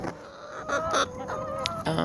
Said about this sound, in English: my more dominant hens are going to fight with her for the bread